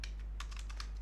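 Keys tap quickly and faintly on a computer keyboard while typing in Excel, several clicks in about a second over a low steady hum, with no talking.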